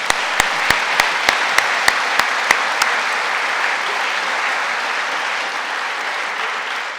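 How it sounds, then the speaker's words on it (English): Steady audience applause fills a hall at a college athletics hall of fame induction ceremony for the athletic director, sustained and even throughout, with a few sharp taps near the start. "Let's give Jim a round of applause"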